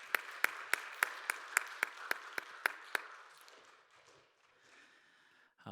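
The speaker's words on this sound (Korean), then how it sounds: "영광의 박수 올려드리도록 하겠습니다." At a youth Sunday worship service, a congregation claps in unison, about ten sharp, evenly spaced beats that then stop, leaving a faint murmuring room tone.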